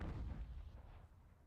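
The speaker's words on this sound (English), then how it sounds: "They do have artillery though, which makes a big difference." Artillery fire in a strategy war game, a dense low rumble of distant booms rolling together for a moment, steady and fairly faint with no voices over it.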